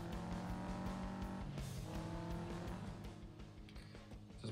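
Racing-game car engine from Need for Speed No Limits, a loud continuous revving drone with shifting pitch and tire noise, steady throughout with no talking.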